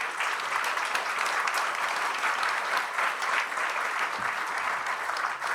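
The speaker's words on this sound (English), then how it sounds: "Please give them an applause." An audience at an international humanitarian law conference applauds its speakers, a dense, steady clapping from a sizeable crowd that holds at an even level for several seconds with no talk over it.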